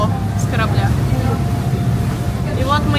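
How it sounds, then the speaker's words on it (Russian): A boat rolling through rough sea on a stormy crossing toward Saint-Tropez, with a steady loud engine drone, wind buffeting and splashing waves, while people talk over it. "Волны тоже здесь не такие маленькие, как были там у берега."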